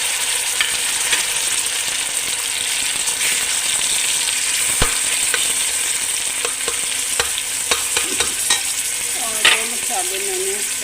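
Tomatoes and green chillies fry with light-browned onions for urad dal mash, giving a steady loud sizzle with occasional sharp pops and stirring scrapes throughout, no talking.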